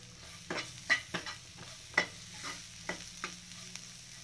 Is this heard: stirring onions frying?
yes